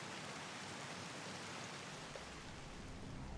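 Steady rain hiss in a rainy scene, a broad even wash of falling drops that holds at a constant level throughout with no voices.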